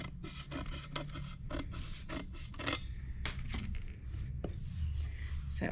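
Tape being trimmed off the back of a mirror: irregular scraping and snipping with crinkling tape, close up and fairly quiet, in rapid bursts throughout.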